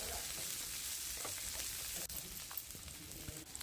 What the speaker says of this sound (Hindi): शिमला मिर्च और प्याज को एक मिनट के लिए हम भुनेंगे अच्छे से।